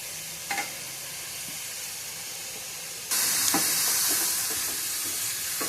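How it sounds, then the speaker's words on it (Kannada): Finely chopped cabbage and carrot stir-frying in a hot pan: a quiet low sizzle, then a sudden loud hissing burst partway through that stays strong, with occasional spatula scrapes. "ಈಗ ಚೆನ್ನಾಗಿ ಫ್ರೈ ಮಾಡೋಣ."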